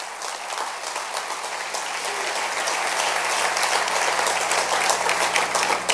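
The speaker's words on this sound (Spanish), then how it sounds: "Dale un aplauso al Rey bendito y dejémoslo hasta acá." Steady, dense applause from a church congregation, filling the space evenly and swelling slightly louder toward the end, with no talk over it.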